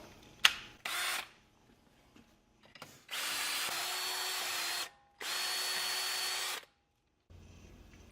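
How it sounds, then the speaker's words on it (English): A power drill whirs through metal in two long steady bursts at low speed, preceded by a few short trigger pulls, close and loud with no talk. "I'm going to put the drill in low."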